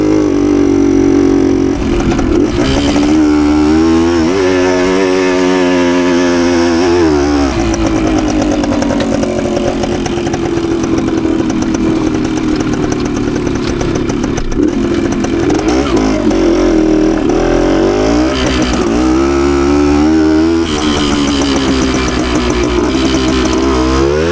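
A 52-year-old Suzuki TS185 two-stroke trail bike rides through the woods, its engine buzzing loud and close with repeated throttle rises and drops as it climbs and bumps along the trail, with no voices over it.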